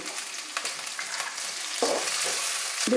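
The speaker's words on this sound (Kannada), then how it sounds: "ಈಗ ಎರಡು ಟೊಮೆಟೊನ ಕಟ್ ಮಾಡಿ ಹಾಕ್ತಾಯಿದ್ದೀನಿ" Chopped tomatoes fry in oil in a pan for a bitter gourd and field bean saaru, a steady close hiss that swells into louder sizzling bursts as more goes in.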